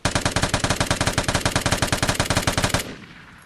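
An L86 light machine gun fires a sustained rapid burst in the video game Vigor, evenly spaced loud shots for almost three seconds before stopping abruptly into a short ringing tail.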